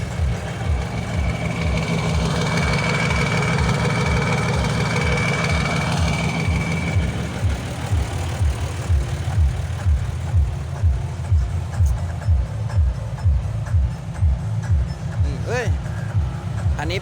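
A ten-wheel truck's diesel engine idling at a temple fair car show, a deep, even low rumble throbbing steadily throughout while someone talks over it and a higher whine fades after the first few seconds.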